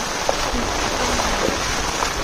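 Heavy rain pours steadily as a broad, even hiss that fills the short stretch, with a few faint knocks and a brief voice-like murmur underneath.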